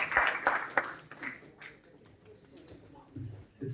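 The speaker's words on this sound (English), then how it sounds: "Please welcome with a huge round of applause the Executive Director at Youth Forum for Kashmir." Scattered clapping from an audience at an International Women's Day event, welcoming a speaker; a few bursts of claps at the start, then thinning into sparse, quiet taps with some background murmur.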